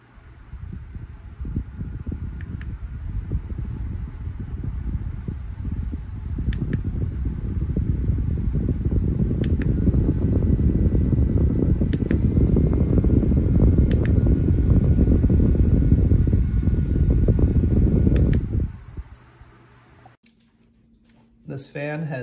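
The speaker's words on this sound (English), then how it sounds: "This fan has 6 speed settings, and it's not too loud." A Peiyuu handheld rechargeable personal fan with a 4000mAh USB battery runs with a steady airy whir that swells as the speed steps up, with faint clicks of button presses before it stops abruptly near the end.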